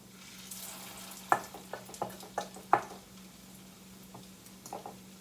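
Salmon croquettes frying in a skillet give a quiet, steady sizzle, with a few sharp clicks and taps standing out from the hiss, and no voices over them.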